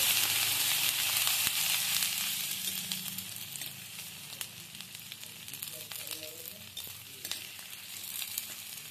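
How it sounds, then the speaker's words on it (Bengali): Grated ginger and garlic frying in a pan, a steady bright sizzle close up with occasional stirring scrapes and light crackles, fairly constant throughout without talk. "গ্রেট করা আদা, আদা আর রসুন একটু আমি ভেজে নিচ্ছি"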